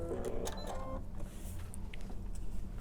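A sewing machine stitches straight along a marked line on quilt fabric, a close mechanical whir that is busiest in the first second and then settles into a softer running hum.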